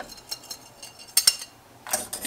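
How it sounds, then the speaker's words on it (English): A whisk clinks against a pot as ginger, ground pepper and anise stars are stirred into cacao, giving a few light metallic taps and scrapes with quiet pauses between them. "I'm just gonna put that all right in and whisk it up."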